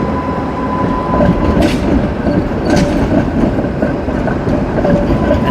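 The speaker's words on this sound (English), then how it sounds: "it's so awesome how they have these ultra long 3-car trams still in service since the 1980s" Budapest three-car TW 6000 tram from the 1980s heard from inside while riding, a loud steady rumble with rhythmic wheel clatter over rail joints and a faint thin squeal.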